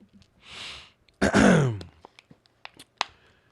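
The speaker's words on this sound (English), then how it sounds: "Let me just clear my throat." A man clears his throat once, close and loud, a short rasping burst followed by a few small mouth clicks and breaths in an otherwise quiet room.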